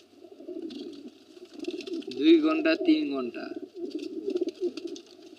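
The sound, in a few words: old pigeons cooing in a pigeon house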